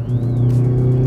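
A hot hatch engine in its most aggressive mode with automatic rev-matching gives a brief, loud, close growl, a steady deep drone with a faint rising whine over it, no talking.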